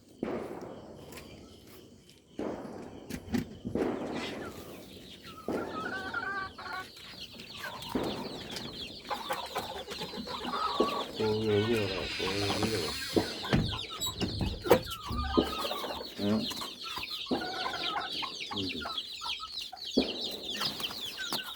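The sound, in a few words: chickens clucking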